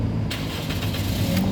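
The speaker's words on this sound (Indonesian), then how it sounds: "sekarang kita coba nyalakan mesin" A 2007 Toyota Yaris 1.5 S automatic starts up: a short crank flows straight into a steady, close idle hum that carries on evenly.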